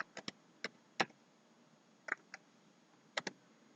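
Computer keyboard being typed on, heard as a few sparse, crisp key clicks in small clusters separated by short pauses, close and fairly quiet over a faint steady background hiss.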